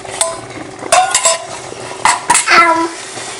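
A utensil stirs coconut cream into Sri Lankan milk rice in a metal pot, with scraping strokes and sharp clinks against the pot sides in irregular bursts, and no voices.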